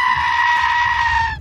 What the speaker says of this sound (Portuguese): em que uma cabra solta esse berro